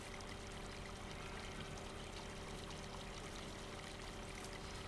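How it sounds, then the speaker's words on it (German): Water splashes and pours into a sheep trough on a farm in Farming Simulator 17, a constant, even gushing with no pauses, quiet and free of speech. "So, jetzt gibt das hier nochmal ein bisschen Geplätscher."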